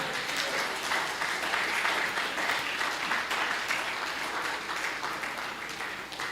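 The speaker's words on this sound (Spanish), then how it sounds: "Póngase sobre sus pies y denle un fuerte aplauso al Señor." A church congregation stands and gives the Lord loud, sustained applause, with dense, even clapping filling the room and no speech over it.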